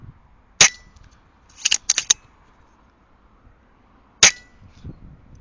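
Air rifle pellets striking a metal target at about 10.8 yards through a night vision scope setup, sharp metallic clangs: one, then a quick cluster of three, then another, each crisp and isolated against near silence.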